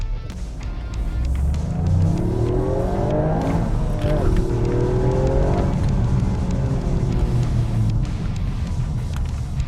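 Toyota GR Yaris pulling hard in first gear in normal drive mode, a loud, close engine note rising steadily over nearly ten seconds, with a faint voice briefly audible.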